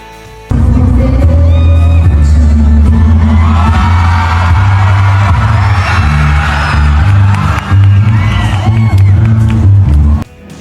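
Loud crowd at an LGU night event in 2024 cheering, whooping and shouting as a couple performs on stage, a dense roar of many voices swelling and holding for about ten seconds before cutting off.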